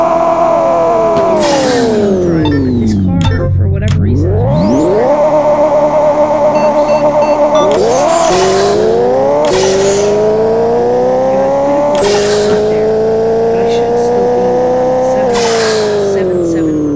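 An 1800HP Honda Civic race car makes a very loud run, its engine revving and climbing through repeated gear changes with sharp shifts, rising and falling in pitch.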